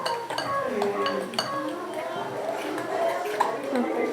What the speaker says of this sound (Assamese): তাৰপিছত এইখিনি আমি মিক্স কৰি দিম